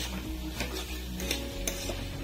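Chopped tomatoes stirred in a cooking pan, giving a steady close-up scraping and soft sizzling with small clinks of utensil against metal, with no talking.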